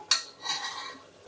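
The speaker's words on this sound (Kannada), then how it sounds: "ಈಗ ನೋಡಿ ಹುರುಳಿಕಾಳು ಹಾಕ್ತಾಯಿದ್ದೀನಿ ನಾನು" Horse gram tipped into a pan of frying onions, a quick clatter of grains and utensil against the pan followed by a soft hiss and a brief scrape, close and alone.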